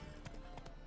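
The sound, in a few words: horse galloping in the video game The Witcher 3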